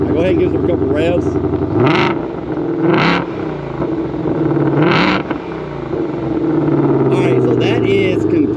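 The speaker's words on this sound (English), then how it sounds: "I'll go ahead and give it a couple revs." A stock-exhaust 2020 Ford Shelby GT500 in track mode idles loudly up close, then gets three sharp revs that rise and fall quickly, with someone speaking briefly before and after.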